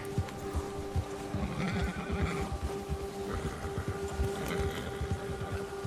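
Horse in the video game Red Dead Redemption 2, heard as a steady clip-clop of hooves with low snorting and whinnying sounds over a continuous ambient rumble.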